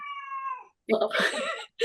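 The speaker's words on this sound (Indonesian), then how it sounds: "suara kucing" A cat gives a drawn-out, tonal meow, then after a short pause lets out a harsher, louder yowl, close and clear with no other sounds.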